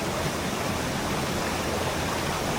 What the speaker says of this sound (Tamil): அது மேலே பெரிய அருவிலேருந்து தண்ணி வருது.